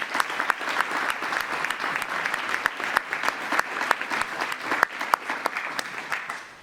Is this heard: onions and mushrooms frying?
no